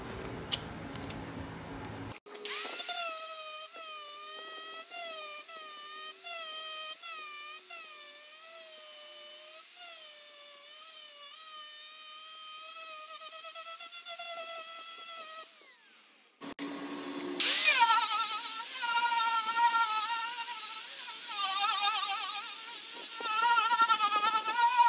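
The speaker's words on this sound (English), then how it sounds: "I'll get the sander and just take those, the little top edge off those," An electric sander whines at a high, buzzing pitch while smoothing the top edge of a transducer mount, running for about fourteen seconds, briefly stopping, then starting up again louder.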